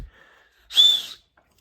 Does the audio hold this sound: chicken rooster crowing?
no